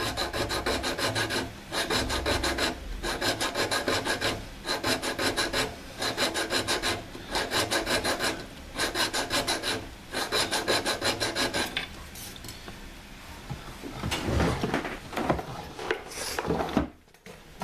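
A hand file rasps across a metal jewelry ring being sized to width, in regular rhythmic strokes with short pauses, then a few lighter scrapes and handling knocks at the end; close and alone, no talking.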